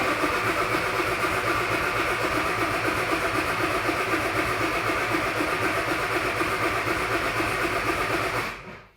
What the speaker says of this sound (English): let's verify that oil pressure by spinning the engine over with that starter